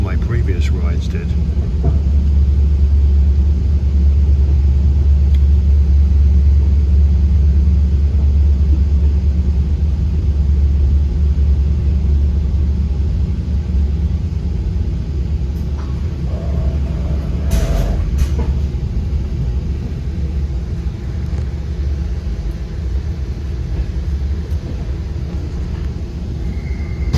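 VRE commuter train #325 crossing the Potomac southbound out of Washington DC, a steady loud low rumble of wheels and carriage throughout with brief faint squeals midway and a voice talking over it.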